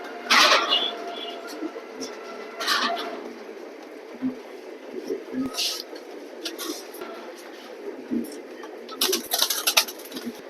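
A pigeon in a loft gives repeated throaty coos in uneven bursts, close and fairly loud, with someone talking in between.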